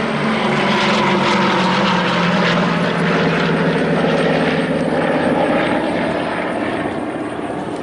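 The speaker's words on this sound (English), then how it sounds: "The C-47 coming back in." Douglas C-47 Skytrain, a World War II twin piston-engine transport, flying past at a 2017 airshow at Yeager Airport, its loud droning engine roar and propeller hum holding steady and close throughout, with no speech.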